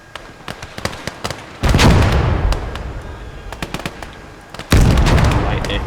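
A tank's main gun firing in the WWII strategy game Gates of Hell on a Finland versus USSR front: two heavy, booming blasts with long rumbling tails, a few seconds apart, over a patter of distant small-arms fire.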